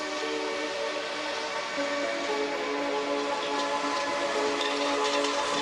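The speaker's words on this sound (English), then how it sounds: "These trains are relatively fast," A Paris elevated metro train near Bir Hakeim runs past with a steady loud rolling rumble and a high whine that holds throughout.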